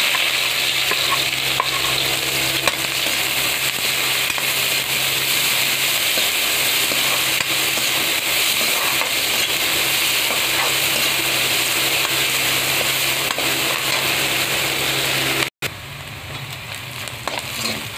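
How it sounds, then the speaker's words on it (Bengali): Chopped onions sizzle loudly in hot oil while a spatula stirs them, a continuous dense crackling hiss with scraping strokes that runs unbroken for a long stretch before a brief dropout near the end. "পেঁয়াজ কুচি দিয়ে দেব।"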